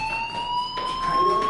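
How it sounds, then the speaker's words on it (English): Fire alarm in the video game Life is Strange, a sustained electronic tone with steady pitched harmonics sounding continuously, moderately loud. "Hey, do you hear that fire alarm?"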